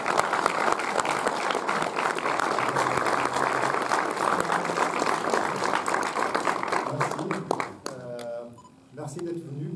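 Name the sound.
audience applause at film screening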